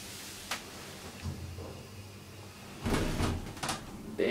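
Oakland elevator doors at a Croydon shopping centre slide shut with a soft rumble and a few sharp clunks and thuds, close and moderately loud over a faint hum.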